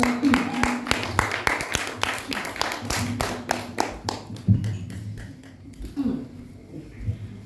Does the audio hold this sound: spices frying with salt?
no